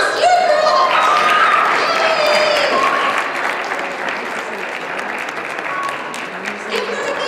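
Audience applauds at a Sailor Moon fan convention panel after a trivia winner, a dense loud burst of clapping with cheering voices and chatter mixed in, easing slightly toward the end.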